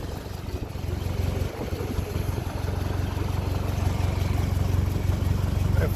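A 1957 Ferguson 35 tractor running on TVO chugs steadily on a drive, its low engine rumble continuous and fairly loud throughout with no talking.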